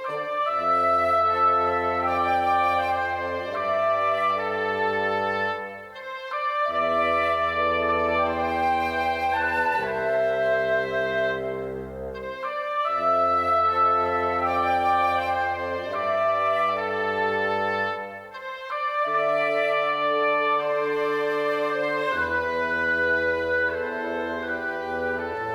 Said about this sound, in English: Woodwinds are playing almost the same thing as the brass or the strings.